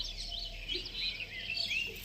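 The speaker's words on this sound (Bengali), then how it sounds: "কি সুন্দর শুধু পাখির ডাক" Birds chirping and calling on a misty, overcast morning in a quiet rural setting, several faint, distant calls overlapping continuously without any talking.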